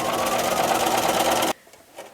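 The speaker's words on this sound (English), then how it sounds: "I'm just finishing up back tacking on the last side." A sewing machine back tacks along the last edge of a quilted placemat in a fast, loud stitching burst lasting about a second and a half, then stops abruptly.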